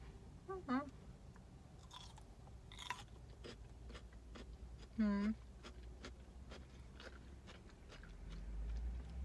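Polish pickled cucumber being bitten and chewed, a few crisp crunches followed by rhythmic moist chewing up close, with a voice speaking briefly in between.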